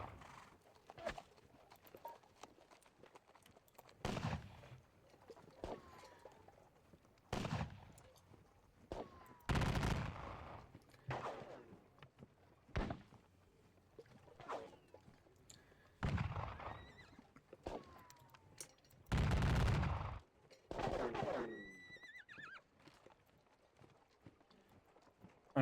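Gunfire and horses in a Napoleonic wargame, set at the Valmy engagement, with scattered volleys of musket fire and hoofbeats repeating over a faint background, each burst rising sharply and then fading.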